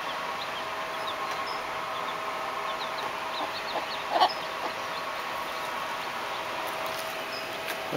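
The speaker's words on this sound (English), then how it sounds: "We have the little chickens hanging out with their mama." Hen with baby chicks: soft high peeping from chicks over a steady hiss, plus one short louder cluck midway, faint and outdoors-like with no talking.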